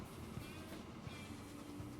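A small train with boxcars rolling along in the Transport Fever 2 game, a steady low rumble with faint rhythmic clicks of the wheels, quiet and continuous, no talking.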